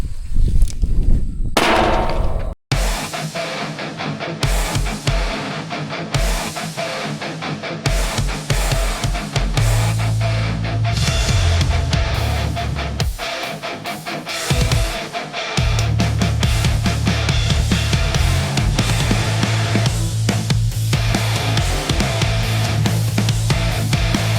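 Gunshots from a Smith & Wesson .357 snub nose revolver at an outdoor target range, loud sharp cracks fired in irregular series and separated by pauses.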